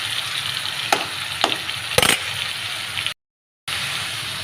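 A ground paste fries in a pan for fish curry, a steady sizzle broken by a few sharp spatula knocks and a brief wet stir, then a short gap of silence before the frying resumes.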